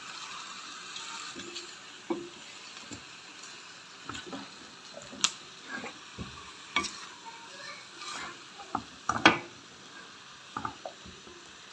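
Chopped tomatoes and onions drop onto small pieces of chicken frying in a pan, a soft sizzle broken by repeated scraping stirs and clattering utensil knocks, close and without talk.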